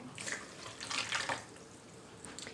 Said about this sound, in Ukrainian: вливаю водичку